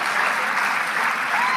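Short burst of dense audience applause in a Stanford University hall, a steady wash of many hands clapping at once, close and fairly loud.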